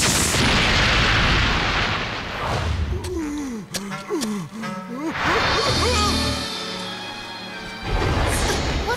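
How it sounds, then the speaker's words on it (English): Cartoon explosion in a children's animated series: a loud, broad blast opens the moment, followed by a stretch where voices speak and cry out, then another heavy roaring burst swells near the end. "I heard an explosion."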